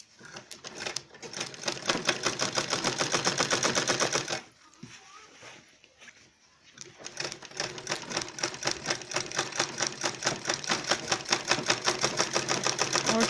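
A sewing machine runs a straight stitch on a zip pocket for a designer bag, rapid rhythmic needle ticking close up, stopping for about two seconds midway before resuming steadily.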